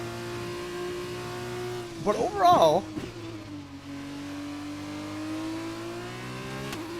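An F2 race car engine in F1 2021 holds a steady high whine that swells briefly as the car revs through a corner, with someone talking over it.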